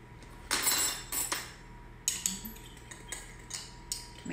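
Dry ingredients of almond flour, baking powder and salt stirred together in a bowl, with a string of close metallic scrapes and clinks as the utensil knocks the sides.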